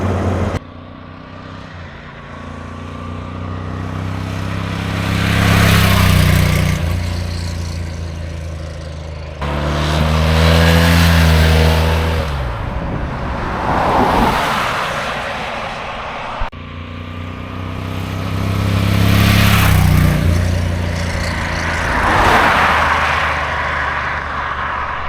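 Loud motorcycle engine revving repeatedly in long swells, rising and falling about three times, with a rough, throaty roar close by from a BMW-style V85TT fitted with a decat exhaust.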